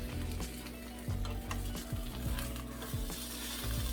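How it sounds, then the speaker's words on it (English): A vegan JUST Egg omelet sizzles steadily in a hot pan, with repeated scraping spatula strokes as the side is flipped over, close and continuous. "we're going to try to flip one of the sides over."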